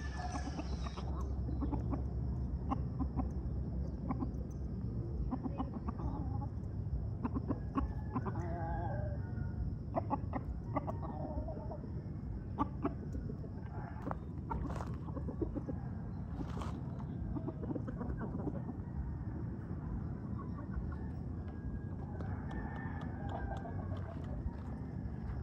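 Farmyard chickens clucking and calling at close range, scattered clucks and short squawks over a busy low background, with no talking.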